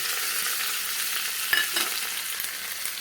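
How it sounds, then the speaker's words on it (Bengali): Chopped garlic and two dried red chillies fry in hot oil as a tempering for an eggplant and paneer dish, giving a close, continuous sizzle with a brief clink of stirring midway. "এর ভিতর দিয়ে দেব রসুন কুচি আর দুটো শুকনো লঙ্কা"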